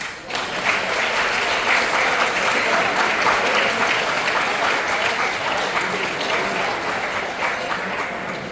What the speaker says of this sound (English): Let us applaud for Belarus.